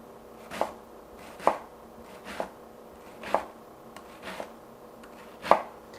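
A kitchen knife chops through an onion on a cutting board, about six distinct sharp taps spaced roughly a second apart, close and clear in a quiet room.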